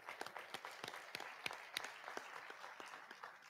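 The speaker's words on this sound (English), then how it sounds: "So a round of applause." Audience at a hospital public forum on Martha's Vineyard applauds, a steady patter of many hands clapping with a few sharper claps standing out, moderately distant and quiet.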